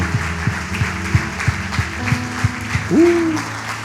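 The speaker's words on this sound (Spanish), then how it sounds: "Dele un fuerte aplauso al Señor porque Él es bueno" A church congregation applauding during a sermon, steady clapping heard over repeating music with low rhythmic pulses and a brief sung or spoken tone near the end.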